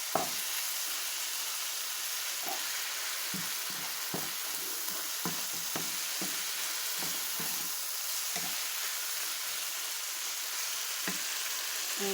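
Sausage sizzling steadily in a frying pan while being stirred, a constant close hiss broken by irregular soft scraping and tapping of the utensil, with no talk.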